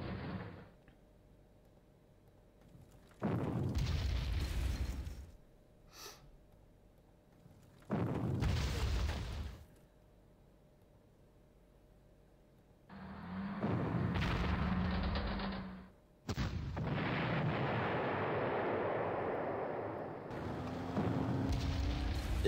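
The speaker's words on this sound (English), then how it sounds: "This is artillery exercise until Alleberger will come." Artillery fire and explosions in the Panzer Campaigns war video game, several separate loud booming bursts each lasting a few seconds, spaced by quieter gaps with a low background hum.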